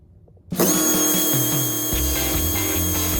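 A Viper Polymod slot car spins up on a dyno with a sudden start, then a steady, loud high-pitched motor whine with drill-like mechanical buzz held throughout.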